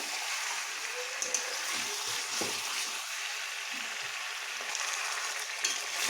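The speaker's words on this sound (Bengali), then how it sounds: "ওই জন্য আমি একটু সময় ধরেই কষিয়ে নিচ্ছি চিকেনটাকে" Chicken slow-sautéed in a pan for a Bengali kosha curry, giving a dense, continuous frying hiss with faint occasional stirring knocks, moderately loud and steady throughout.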